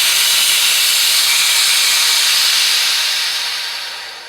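Pressurized gas hisses loudly and steadily out of a Corny keg being vented before cleaning, a close, continuous rush that fades slightly at the end.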